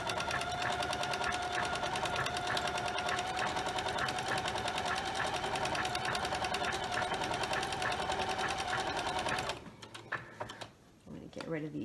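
Sewing machine stitching decorative stitches on an art appliqué scrap quilt, a fast, even mechanical chatter running steadily for about nine seconds before it stops and leaves quieter handling sounds.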